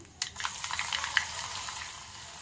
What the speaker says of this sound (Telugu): ఆయిల్ హీట్ అయ్యాక అందులో 1 స్పూన్ ఆవాలు, అలాగే 1 స్పూన్ జీలకర్ర, ఎండు మిరపకాయలు, దంచిపెట్టిన వెల్లుల్లి,